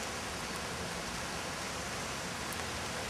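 Steady rain falls all day at a forest cave site near Kiev, a dense, even hiss of drops continuing without a break throughout.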